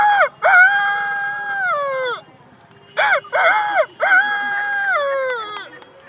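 A man imitates a rooster crowing at dawn with his voice, giving two long, loud, drawn-out crows close by, separated by a short pause.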